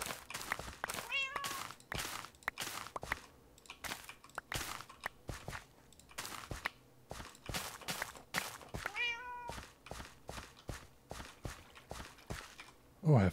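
A cat meows twice in a blocky survival video game while wheat is being farmed, thin and high, over steady soft clicking steps, with people talking throughout.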